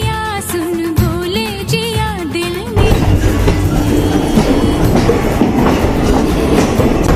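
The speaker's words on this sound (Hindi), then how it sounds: "एक टनल के अंदर, इसके अंदर से ट्रेन ये जा रहा है" A train on the Nazira to Silchar line runs through a tunnel, with a loud, continuous close rumble and rattling clatter that fills the space after a brief tonal voice-like passage at the start.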